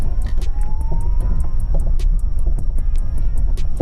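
A Trabant car pulls away uphill at night, its small engine droning steadily up close with a rising whine and repeated faint ticking throughout.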